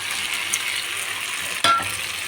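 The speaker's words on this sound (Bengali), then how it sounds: "হাঁটটা কষানো হয়ে গেছে এবার এই আলুগুলো দিয়ে দেবো" Potatoes tossed into sautéed chicken frying in a pan, a continuous hiss of hot oil broken by one sudden louder sizzling burst as the pieces go in.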